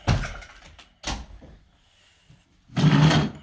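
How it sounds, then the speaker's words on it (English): A few muffled thumps and scuffs of carpet being pressed down onto tack strip pins, the pins biting into the backing, with a longer pressing crunch near the end and quiet gaps between. "That's the sound of the pins going into the backing."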